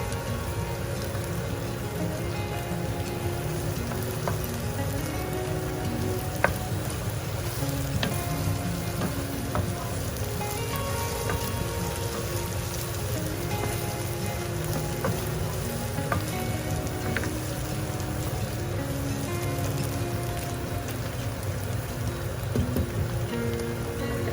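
Goat brain masala sizzles and crackles in hot oil after turmeric powder goes in, a steady close frying hiss with scattered pops running throughout, no voices.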